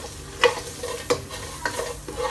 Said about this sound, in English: very quickly we'll add the onions, and we're going to cook this till the onions turn slightly brown